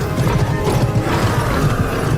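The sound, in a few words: riding horse in Total War Warhammer cinematic trailer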